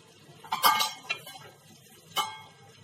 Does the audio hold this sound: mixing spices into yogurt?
yes